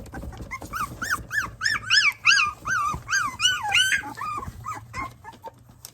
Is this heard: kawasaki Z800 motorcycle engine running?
no